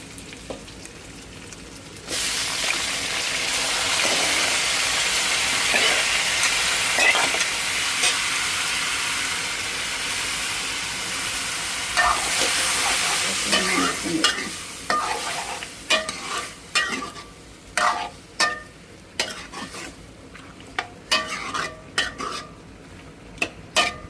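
Onions sautéing in a pan for a home-cooked lunch, a steady loud sizzle for most of the time, then giving way to repeated sharp scrapes and clinks of a spoon stirring against the pan.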